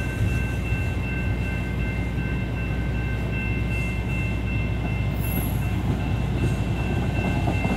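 A Norfolk Southern freight train carrying Erie Lackawanna and damaged MARC passenger cars rolls past as a steady loud rumble of railcars, with a sustained horn-like tone and a brief high squeal partway through.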